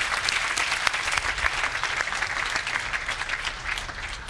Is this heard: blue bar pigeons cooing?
no